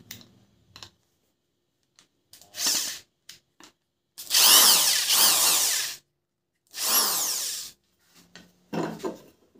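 Power drill bursts into wood: several whining runs of a few seconds each, separated by clicks and handling noises, close and loud with no speech.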